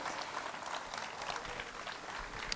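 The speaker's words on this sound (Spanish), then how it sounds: "Fuerte ese aplauso para ellos." A concert audience at a Christmas event in Santiago del Teide applauds the Teide folk dancers and the municipal folklore school, a moderately quiet, continuous wash of clapping from a sizable crowd.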